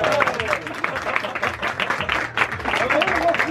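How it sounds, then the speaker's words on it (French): Guests at a couscous party clap together in a lively, uneven burst of applause, close and fairly loud throughout the short stretch, with voices mixed into the clapping. "Et on applaudit la semoule."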